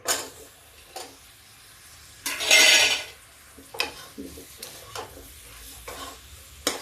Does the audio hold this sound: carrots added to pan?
yes